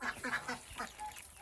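Village ducks quack in a quick run of harsh, nasal calls, several in the first second, then quieter scattered quacks close by, with other poultry around and no talking.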